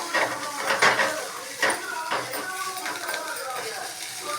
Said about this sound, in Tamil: இப்போது இஞ்சி இஞ்சி பூண்டு இதையும் போட்டு வதக்கிறோம்